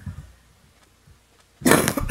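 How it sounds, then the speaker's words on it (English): A person coughs during a game session: a quiet stretch with faint breaths, then a sudden loud, harsh cough burst close to the microphone that lasts about half a second. "I just coughed all over my screen."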